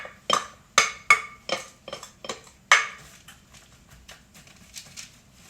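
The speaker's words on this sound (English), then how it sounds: "I've got a sheet pan lined with parchment. I'm going to go ahead and put this in a single" A series of sharp clinks and light thuds as vegetables are set down on a parchment-lined metal sheet pan, irregular and close, fading to softer taps.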